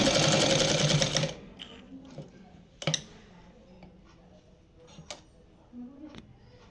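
A sewing machine stitches a petticoat in a loud, rapid whirring burst at the start, then falls to sparse ticks and clicks of the machine and fabric handling, close by and quiet.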